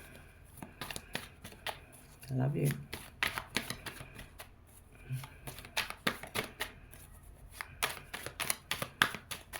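Tarot cards being shuffled close up, a steady run of crisp riffles and flicks, with a soft voice speaking briefly among them.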